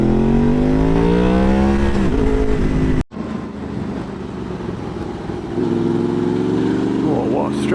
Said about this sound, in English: This has got a aftermarket exhaust on it, and it came with the bike when I bought it. and it has got the baffles removed